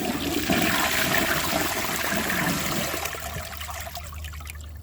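A 2011 Duravit Starck 3 wash-down toilet flushing with a washcloth and grocery bag in the bowl: a strong, loud rush of water held for about three seconds, then easing into a softer swirl and trickle.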